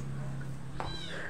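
A house cat gives one short meow, close but soft, over a steady background hum, with faint voices in the room.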